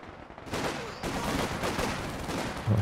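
Sniper and small-arms fire in Company of Heroes 2 cracks through a busy battlefield mix, with a few loud shots standing out over a steady rumble of combat.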